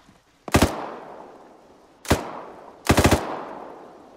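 Three rifle shots from an Arma 3 co-op mission: one sharp crack, a second, then a quick burst of several rounds, each loud and close with a long rolling echo trailing off into the open terrain.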